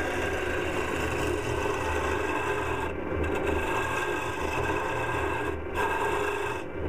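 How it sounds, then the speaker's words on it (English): A wood lathe spins as a gouge riding the bevel removes a lot of wood, a continuous close rasping scrape over the motor's hum with a couple of brief dips where the tool lifts off. "Removing quite a lot of wood here."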